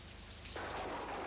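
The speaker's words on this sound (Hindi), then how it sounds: "सारी रात बारिश में भीगना पड़ेगा।" Rain falls steadily at night as a soft, even hiss of drops on surfaces, growing slightly heavier partway through, with no one speaking.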